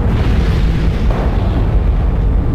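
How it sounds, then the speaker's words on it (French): A loud, dense roaring rumble stands in for solar explosions in a documentary about the Sun, rolling continuously and heavily through the low end with no breaks and no voices. "ces déchaînements d'explosions solaires ont des causes magnétiques"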